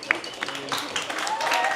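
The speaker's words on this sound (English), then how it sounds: "Big round of applause for Carrie." A small group claps for a competitor at a sustainable cocktail championship, light scattered applause mixed with voices and room chatter, fairly quiet and brief.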